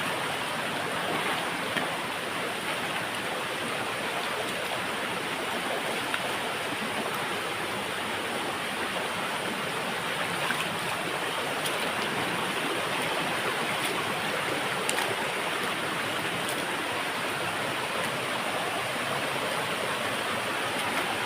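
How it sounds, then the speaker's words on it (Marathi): The Insuli Pagavadi waterfall near Sawantwadi roars in a steady, dense rush of falling water, loud and unbroken for the whole stretch with no voices over it. "आणि फायनली वाटतं धबधबो इलो हा"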